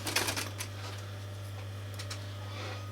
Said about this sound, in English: Now I'm sewing with the foot up to the edge of the teeth.